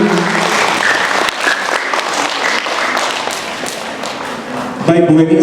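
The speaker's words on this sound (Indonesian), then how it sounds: "Boleh tepuk tangan buat kita semuanya hari ini." Loud, dense applause from the audience at a school tahfiz Quran-memorization graduation ceremony at SD Islam Al-Azhar 45 Palembang, a steady crowd wash throughout, with a brief tonal sound at the very end.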